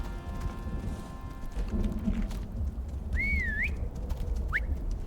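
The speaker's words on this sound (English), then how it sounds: "God, those whistle commands are so convenient" A whistle command in the video game Icarus: a wavy, warbling whistle, then a second short rising one, clear over steady in-game ambience with a low rumble and soft hoof-like thuds.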